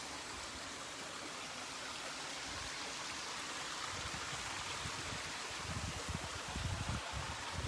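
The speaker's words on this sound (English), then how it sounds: "I think it's got, I don't know, 4 or 5, waterfall drops like that. It's really loud." A loud outdoor water feature with four or five waterfall drops winding down to a pool at a Steamboat Springs property, a steady roaring wash of falling water that swells slightly toward the end, with no voice over it.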